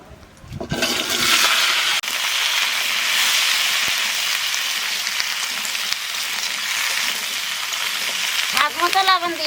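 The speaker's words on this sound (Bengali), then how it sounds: "তেলের উপর দিয়ে দেবো জিরে এইবার লাউ দিয়ে দেবো" Cumin and bottle gourd hit hot oil with a sudden loud sizzle that settles into a steady, close crackling fry, with a clatter and brief voice near the end.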